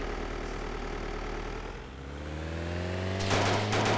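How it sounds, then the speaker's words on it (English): Biplane engine in the survival game DayZ, a droning propeller hum that shifts pitch as the aircraft passes, rising into a louder rough roar near the end, with no talk. "I hear a biplane"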